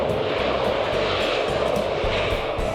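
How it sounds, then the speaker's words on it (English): Steady, loud airplane engine roar at an airport, a continuous broadband rumble that stays even and close throughout with no voices over it. "the loud noises of the planes"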